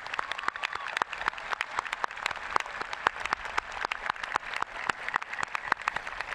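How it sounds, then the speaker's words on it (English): Sustained audience applause at a 2018 commencement ceremony, a dense wash of many hands with sharper individual claps poking through, steady and moderately loud throughout with no talking. "Let's give one more round of applause for our distinguished board scholars."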